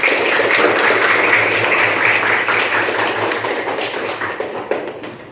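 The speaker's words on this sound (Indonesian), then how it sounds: "Tepuk tangan." Sustained rhythmic clapping from a class of children, dense and steady, gradually tapering slightly toward the end.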